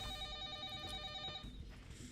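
A telephone rings in a FNAF remake horror game at the start of night 6. A quiet, steady electronic ring holds for about a second and a half, then fades into a low background hum.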